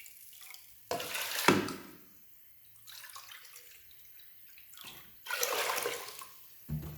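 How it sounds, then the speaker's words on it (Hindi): Water poured into a pot of soaked lobia (black-eyed beans), a few short splashing pours with quiet gaps between them, close by and moderately loud. "पानी ऐड करेंगे इतना कि अच्छी तरह ये गल जाए।"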